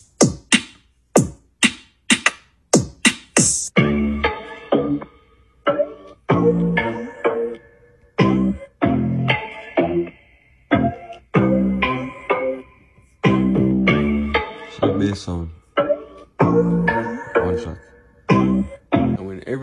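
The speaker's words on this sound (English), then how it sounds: "you're gonna need some drums for sound something like this." Drum beat for a dancehall track, opening with sharp isolated hits before settling into a steady, punchy looping groove with tight percussive accents, loud and alone without talk.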